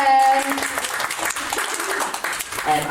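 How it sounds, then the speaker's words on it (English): A pub or club crowd at a live comedy or music night gives a round of applause for a woman, clapping and cheering, with a voice audible at the start and end. "Round of applause for Megan, please."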